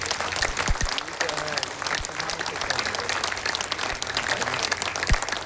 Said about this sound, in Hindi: पूरा सदन एक बार जोरदार तालियां बजा दे